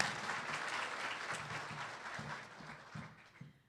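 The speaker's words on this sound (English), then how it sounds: "Let's give them all a big round of applause." A round of applause for the volunteers at an entrepreneur awards ceremony, steady clapping from an audience that fades toward the end, with a few low voices underneath.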